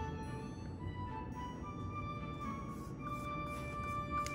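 A robot vacuum plays a short, faint electronic tune of steady tones over a low, constant room hum in a home soap-making workspace, with no talking.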